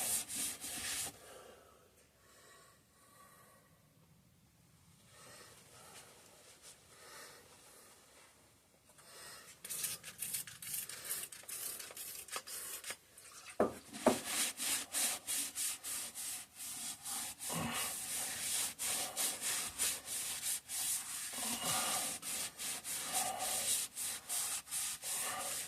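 Rust is scrubbed off Kohler K301 engine parts, starting with quiet handling, then a rapid rhythmic back-and-forth scrubbing that grows loud and continues steadily, close up.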